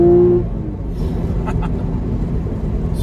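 Porsche Cayman 981 with its factory sport exhaust, a steady low engine rumble at close range with a brief tonal note at the start and no voices.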